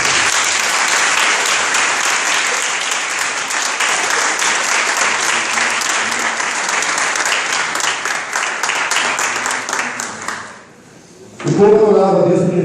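A church congregation at a family worship service breaks into sustained, dense applause for about ten seconds, loud and close, before it stops abruptly and a voice speaks.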